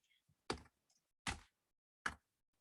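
Three separate clacks on a computer keyboard in a quiet room during a programming lecture, each keystroke sharp and close, spaced out with faint softer taps between.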